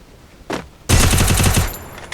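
A UMP submachine gun in the Free Fire mobile game lets out a short shot, then a loud, rapid automatic burst of about a dozen rounds in close succession.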